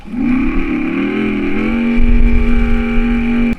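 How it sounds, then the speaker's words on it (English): Milepuff One electric motorcycle putting out a synthetic gas-bike engine note, a loud steady drone that rises in pitch like a rev and then holds at a constant hum, with no talking. "Does your e-moto sound like a gas bike? Because mine does."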